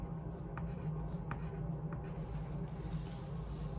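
Pencil or crayon drawing straight horizontal and vertical lines on paper for a mitten design, a soft continuous scratchy rub with a few brief stroke accents, close and fairly quiet, with no voices.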